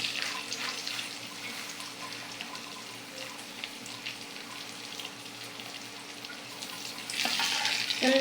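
Onions that have browned in oil sizzle with ginger-garlic paste added, before bain fish is cooked, a steady hissing fry that grows louder near the end.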